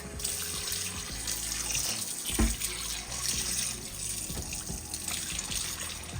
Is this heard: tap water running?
yes